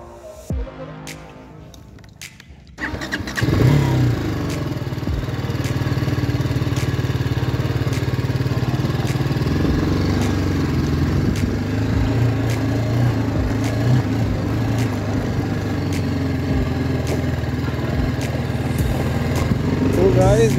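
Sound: BMW G310R motorcycle engine while setting off on a ride

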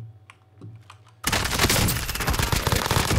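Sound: gunfire in video game Call of Duty Warzone

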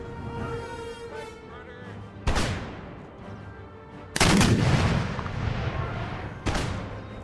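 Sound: musket and artillery gunfire in Empire: Total War video game

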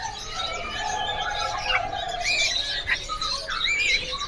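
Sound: Bali myna birds calling

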